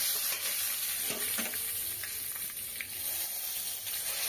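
Asafoetida and nigella seeds sizzle in hot frying oil for a sprouted green pea kachori filling, a steady, close crackling hiss that runs unbroken throughout with no voices.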